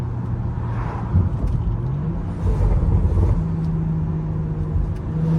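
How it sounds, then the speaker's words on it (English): A BMW 335i being driven hard on backroads, its engine and exhaust giving a steady, deep rumble with surges of revving, heard from inside the car and continuous throughout. "this car sounds so good"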